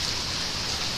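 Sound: heavy rain during Hurricane Irma

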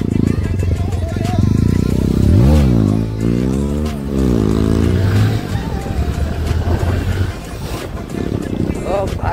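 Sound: Yamaha R15M motorcycle revving during a wheelie

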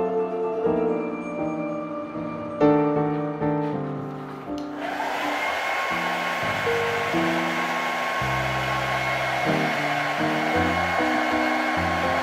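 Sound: blow dryer drying paint

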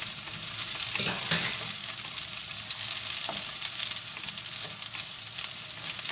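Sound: garlic and onion frying in a pan for chopsuey

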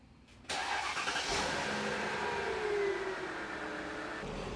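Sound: Mercedes S500 car driving on road

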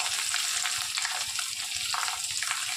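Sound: curry leaves and onion frying

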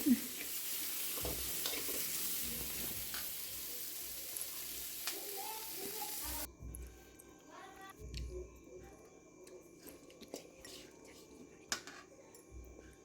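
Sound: frying in oil

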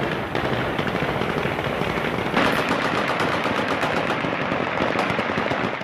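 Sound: celebratory gunfire

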